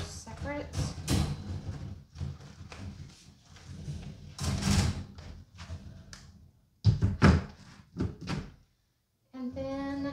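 Fabric doors of a Kousi portable storage cube system are handled, giving soft thuds, rustles and clacks that come in bursts while someone talks over most of it.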